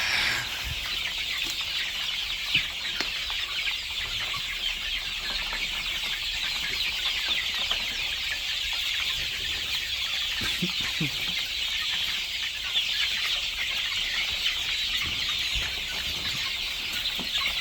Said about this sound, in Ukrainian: Ось такі курчата.